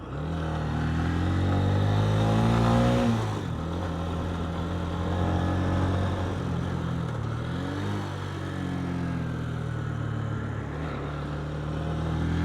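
Honda CB125F single-cylinder motorcycle revving hard, the engine note climbing steeply then dropping and building again through gears on a spirited run down a country road, loud and steady throughout with no talking.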